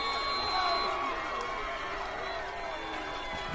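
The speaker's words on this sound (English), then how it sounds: "Crowd's trying to make noise to throw Pennington off." Crowd at a varsity high school football game during a crucial fourth-quarter third down, a steady distant roar of voices with a wash of cheering and no clear words.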